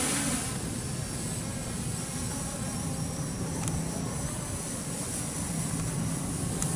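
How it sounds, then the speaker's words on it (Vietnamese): A JJRC JJPRO X3 Hax GPS remote-control drone flies fast, producing a steady, loud whirring buzz with broad airy noise throughout and no speech. "Mình đang xài tốc độ nhanh nè. Đó, thì máy bay sẽ bay nhanh về phía trước."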